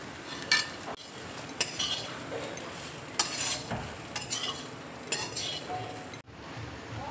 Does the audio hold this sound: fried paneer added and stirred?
yes